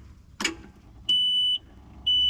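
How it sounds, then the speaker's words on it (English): An auctioned machine that sat for years, just given wiring and DPF repairs, sounds a steady electronic warning beep in two long tones after a brief rattle as it tries to start, with a low engine hum underneath and no talk. "we're still getting the beeping"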